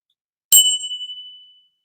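A single bright notification bell ding rings out clearly and alone, with a sharp strike followed by a clean, sustained ring that fades over about a second.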